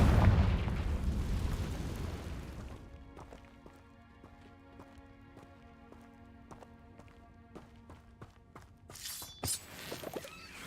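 Spell blast from Confringo in Hogwarts Legacy: a loud booming burst with a long rumbling decay that fades into sparse tinkling and clicking game sounds, with a few sharp impacts near the end.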